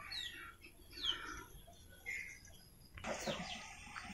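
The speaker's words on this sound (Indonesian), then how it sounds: "burungnya sudah mulai bunyi" A captured kolibri wulung sunbird gives several short, thin high-pitched calls at low volume, followed near the end by a louder rustling burst with a cluttered high chatter.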